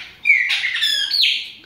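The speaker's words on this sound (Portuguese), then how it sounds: "É uma pássaro preto que realmente me enche de orgulho." A pássaro preto, the chopi blackbird, sings a short clear phrase of bright whistled notes, close and alone against a quiet background.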